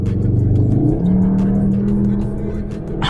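Synthetic engine sound piped into the cabin of a 310 PS Cupra Formentor, a loud steady drone that rises in pitch like a rev climb, then holds a sustained tone, continuous throughout with no talking.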